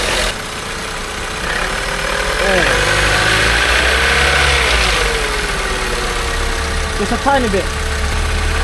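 A Ford Focus ST3 with a reported cold-start tapping from the engine bay starts and settles into a steady, fairly loud idle, with a couple of brief revs; a person speaks briefly over it.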